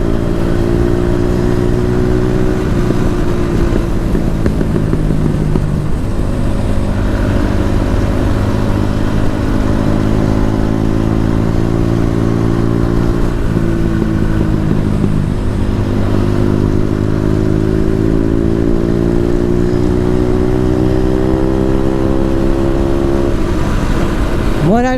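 A Suzuki RM250 dirt bike engine revs loudly and continuously close by, its pitch rising and falling through repeated throttle changes, with sputtering misfire pops and a rough, uneven exhaust note throughout.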